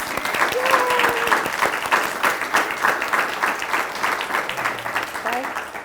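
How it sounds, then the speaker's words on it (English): An audience applauds future educators at a signing day ceremony: steady, fairly dense clapping from a crowd, moderately loud, with a faint voice underneath. "let's give these future educators one more round of applause"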